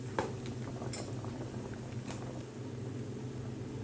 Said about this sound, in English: Let that continue boiling.